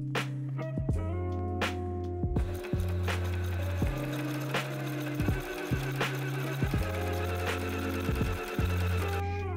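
A sewing machine hemming a garment, running in repeated bursts of steady mechanical whirring and humming, stopping and restarting several times, close and clear with no talking.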